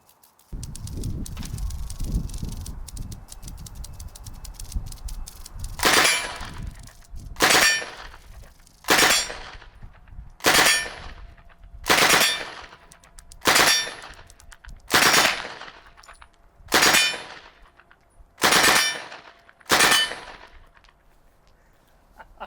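A German MP40 submachine gun fires a string of roughly ten loud sharp shots, evenly spaced and echoing outdoors, after a stretch of low rumbling background noise.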